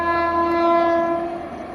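A train sounds its horn while travelling through mountains. The horn is a loud, near, sustained tone that holds steady for the whole moment and fades slightly at the end.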